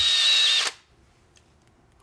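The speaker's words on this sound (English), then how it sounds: "I'm just gonna drill that little brass rivet away." A power drill bores out a small brass rivet holding a BCD switch together, a loud close whine lasting under a second before cutting off, followed by faint quiet handling.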